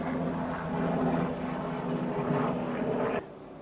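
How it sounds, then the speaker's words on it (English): A helicopter passes overhead outdoors, a steady, loud droning rumble that holds throughout and then drops away abruptly near the end. "bloody helicopter going overhead"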